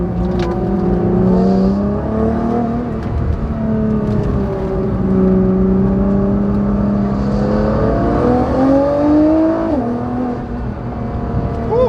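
A car's engine revs and drops through quick downshifts on a winding mountain road, the pitch rising and falling repeatedly in a loud, close, continuous roar with no talk.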